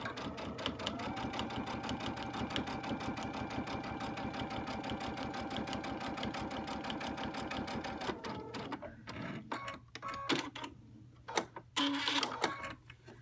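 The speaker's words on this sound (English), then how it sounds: "put my foot down, and let's sew" Sewing machine stitching with a digital dual feed foot, giving a steady fast mechanical whir and needle patter for several seconds before it stops, followed by clicks and handling noises.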